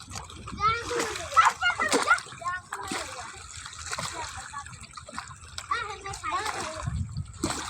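Bathers splash in cold river water, with irregular close splashes and sloshing throughout and a voice and other people talking over them.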